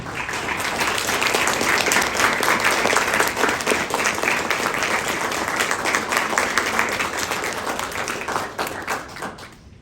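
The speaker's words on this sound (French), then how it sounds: "Je vous demande d'applaudir encore une fois cet amour-là" Wedding guests applaud the couple during a ceremony, sustained, dense clapping from a large crowd lasting nearly ten seconds, loud and even before tapering slightly at the end.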